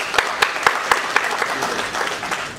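Audience applause at a youth eloquence club event, steady clapping from a moderate crowd with distinct individual claps standing out throughout.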